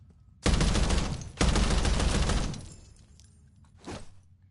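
Gunfire in Call of Duty Black Ops 7 Zombies: two loud, sustained bursts of rapid automatic shots, then a quieter stretch and one short final burst.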